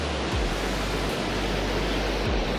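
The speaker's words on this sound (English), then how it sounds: "Listen and you can hear the water flowing underground." Water rushing unseen beneath rock at Natural Bridge Falls near Big Timber, Montana, a steady dense roar with no break, loud and continuous throughout, with a few low thumps.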